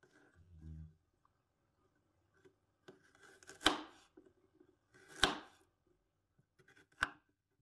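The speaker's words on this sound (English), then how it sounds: "Here, we cut our garlic into slices like this." A knife slices peeled garlic on a board: a few soft taps, then three sharp, close cuts spaced about a second and a half apart, with quiet gaps between.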